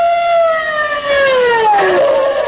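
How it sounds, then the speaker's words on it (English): A police car siren sound effect from a 1940 radio comedy show wails loudly, a single long tone gliding steadily downward, alone with no voices. "Long Pan jumps into his police car through the streets of Chinatown, his siren screaming."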